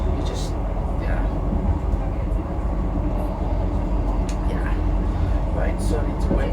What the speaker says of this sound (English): I need to wait for the train to get to Todmorden